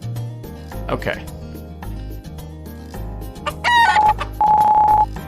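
Chicken clucking in the video game Heartbeat: a series of loud, pitched game-chicken clucks and squawks over a looping background music track.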